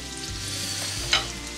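Coarsely ground red chili frying in a pan with garlic and lime leaves, a steady close crackling sizzle with a brief louder spatter near the end.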